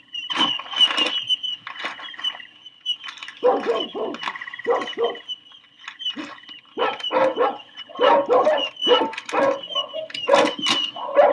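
Several dogs barking in an old radio drama, loud repeated barks and yips in irregular bursts, close and agitated, with brief pauses between volleys.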